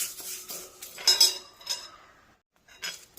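A spoon scrapes and clinks against a pan in short, uneven bursts as black seeds roast dry, with brief quiet pauses between.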